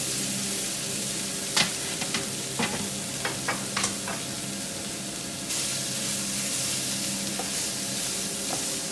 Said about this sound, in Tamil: ஈரல் சிறிதளவு நேரம் பொரியட்டும் எண்ணெயில்.